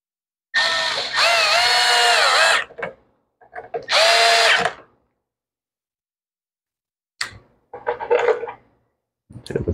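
A cordless power drill drives screws into the plastic cover of a Toro lawn mower in several short bursts, whirring up and stopping, close and fairly loud with quiet gaps between.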